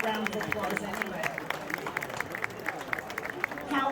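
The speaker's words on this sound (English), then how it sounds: "Give him a round of applause anyway." Audience at the Gottscheer Volksfest clapping in a steady burst of applause, with crowd murmur running underneath throughout.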